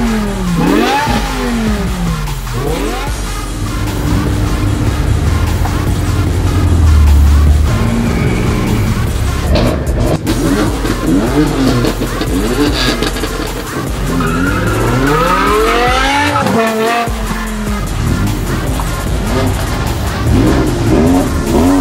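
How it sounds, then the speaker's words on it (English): Loud, close engines of modified BMW M cars rev repeatedly on a track, pitch sweeping up and down in aggressive bursts, with tire squeals and a constant roar throughout. "they're starting their engine, and the engine sounds here"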